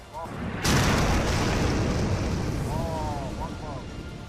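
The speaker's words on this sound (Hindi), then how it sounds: "जोरदार धमाका होता है और हर ओर धुआं फैल जाता है।" A loud explosion from a strike on the coastal city of Tyre, Lebanon, bursts suddenly, followed by a long rumbling roar of debris and noise that slowly fades, with faint voices in the background.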